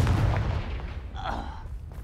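Confringo spell blast from the video game Hogwarts Legacy, a loud booming burst with a sustained rumbling low end that fades over a couple of seconds, heard alone.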